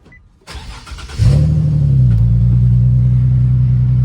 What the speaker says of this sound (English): Nice little cold start